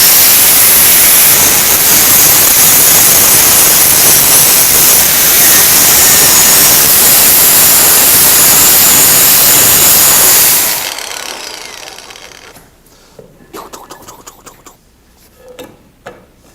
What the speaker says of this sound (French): les lunettes, les gants que je garde, et la meuleuse à matériaux.